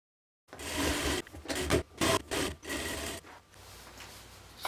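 A sewing machine runs in short bursts while stitching the side seams of a bodice and sleeve for a puffy tiered tent dress, its steady whirring broken by brief pauses, close and fairly quiet.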